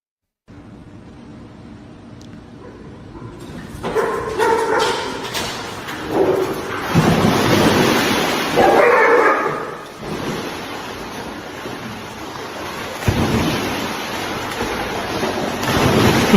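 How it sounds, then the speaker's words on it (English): Dogs in a pool bark and splash, with water churning and sloshing in loud surges, wind-like rumble and a few bark-like bursts, after a brief silent start. "This is dogs in a pool."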